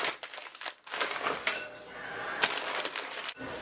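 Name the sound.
mixing hash browns into pancake mix in a bowl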